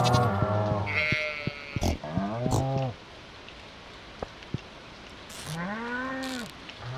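Sheep bleat in the farming game Stardew Valley, a few drawn-out, wavering calls close by, separated by a quiet stretch with faint patter and clicks in the background.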